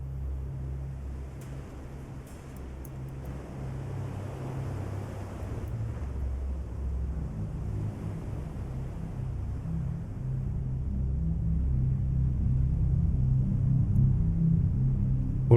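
Destroyer engines in the video game Destroyer the U Boat Hunter drone as a deep, steady rumble with a faint windy hiss, slowly swelling louder while the warship runs ahead, with no voices.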